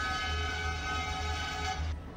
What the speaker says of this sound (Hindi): इसका हॉर्न काफ़ी बढ़िया है भाई लोग